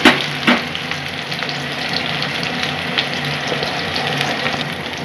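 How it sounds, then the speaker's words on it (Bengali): Chopped onion fries with cumin in hot oil while being stirred in a pan for a katla fish curry, a continuous close crackling sizzle with a few scraping knocks at the start, no talking. "দিয়ে আমি একটু নাড়াচাড়া করে পেঁয়াজটা ভেজে নিচ্ছি।"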